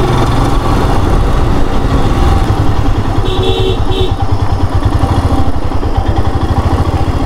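A motorcycle ridden on a rough mountain road between Gangtok and Lachen in North Sikkim: a loud, close engine drones steadily throughout with a rapid, pulsing rattle and no voices.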